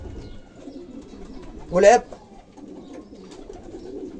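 Domestic pigeons give a short throaty coo close by, one distinct burst in the middle, while someone speaks Arabic over quiet background bird sounds.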